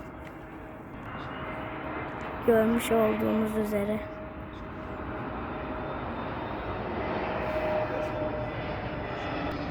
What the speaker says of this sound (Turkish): Uçak kalkıyor.